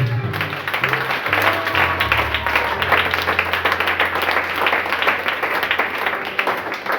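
A church congregation claps and applauds in praise, a dense, steady wash of many hands filling the room continuously, with an organ or keyboard tone sustaining low underneath.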